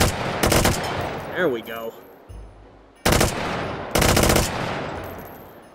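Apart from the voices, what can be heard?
full-auto gunfire in the video game H3VR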